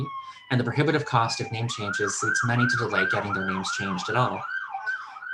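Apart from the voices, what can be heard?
sirens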